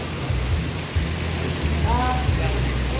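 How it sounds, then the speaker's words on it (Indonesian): Steady rain pours down in a broad, constant wash of noise over a low, droning rumble, with a few short tonal sounds rising briefly near the end; no clear thunder stands out. "Hujan lah"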